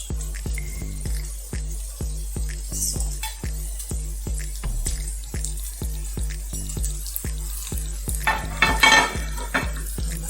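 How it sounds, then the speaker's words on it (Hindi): Stuffed bell pepper filling is fried with red chilli, coriander, cumin and turmeric while a spoon scrapes and taps the pan in a steady rhythm over a low sizzle, close up with no talking. "मसालों के साथ इसको अच्छी तरह से हम भून लेंगे 3 से 4 मिनट।"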